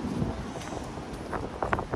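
Wind buffets the microphone in a steady rushing roar, with a few brief louder gusts toward the end.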